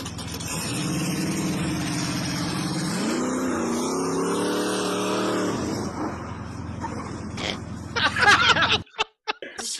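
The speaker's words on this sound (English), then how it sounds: "Guy's trying to do a burnout and he gets thrown out of the car." Car doing a burnout with a driver thrown from the vehicle, engine revving hard in a sustained high roar that climbs in pitch, then cuts out into scattered knocks and crowd noise with some voices nearby.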